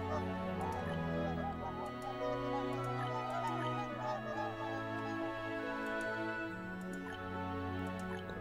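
Geese in the Settlement Survival video game honk repeatedly in a busy, overlapping chorus, steady and fairly close throughout, with no talk over them.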